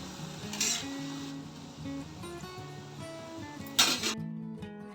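Food sizzles in hot oil until golden, with soft stirring and a couple of brief clinks of a utensil against the pan, close by and fairly quiet.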